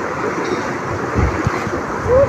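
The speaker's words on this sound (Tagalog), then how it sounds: "Kasi malakas ang tubig, tag-ulan, mataas." Strong, swollen river water rushes steadily during the rainy season, a loud continuous roar up close with a few low thumps, and no clear talk over it.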